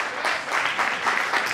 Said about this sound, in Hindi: जगत बुआ जी के लिए सब जबरदस्त तालियां